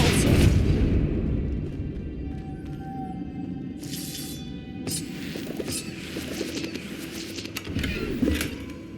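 Repulso spell cast in Hogwarts Legacy, a loud booming magical blast near the start that fades under ongoing game ambience, with further sharp bursts and crackles later.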